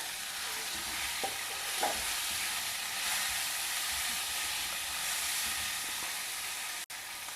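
Chopped bitter gourd sizzles steadily in a hot pan, a continuous close frying hiss with faint stirring scrapes and one brief knock near the end.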